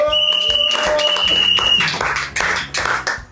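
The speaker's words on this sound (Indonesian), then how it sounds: "Tepuk tangan buat tim B." A studio audience at an Indonesian stand-up comedy quiz show breaks into loud, rapid clapping after a brief tonal jingle, the applause tapering toward the end.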